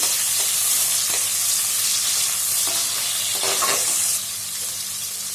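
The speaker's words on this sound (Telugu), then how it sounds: "నాలుగు పచ్చిమిర్చి చీలికలు సన్నగా తరిగిన ఒక ఆనియను వేసుకొని ఒక నిమిషం పాటు బాగా వేసుకుందామండి" Slit green chilies and finely chopped onion fry in a pan, producing a loud, continuous sizzle close up with scraping stir strokes through it.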